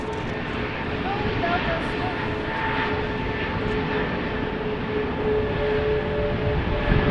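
A Transavia Boeing 737 arriving from Olbia at a wet, windy Amsterdam Schiphol gives off a steady broadband engine roar that holds for the whole stretch, with some wind and background rumble.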